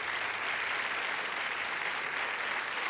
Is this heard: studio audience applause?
yes